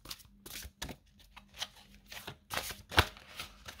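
Playing cards being shuffled for a tarot-style card reading, a series of quick riffling bursts close to the microphone with a sharper snap near the end.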